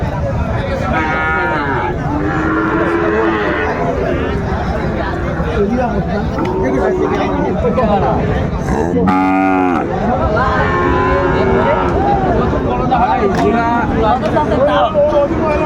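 Cattle moo repeatedly amid a busy crowd at an outdoor cattle market in Munshiganj, Bangladesh, with people chattering and bargaining all around; one loud, drawn-out low at the midpoint stands out.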